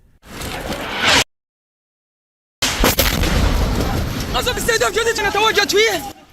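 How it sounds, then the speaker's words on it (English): Explosions from Israeli airstrikes on Jabalia refugee camp: loud, booming blasts broken by a sudden silence, then a rumbling burst followed by crowd shouting and wailing voices. "This is the third wave of airstrikes targeting the same area."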